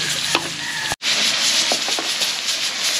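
Garlic and red onion sautéing in a pan for a catering service, a continuous hiss of frying with scraping stirs and a brief interruption partway through.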